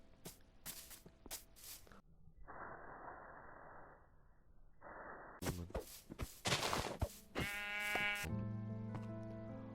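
Sheep bleat in the Minecraft video game, several short bleats between footstep clicks and blocky game sounds.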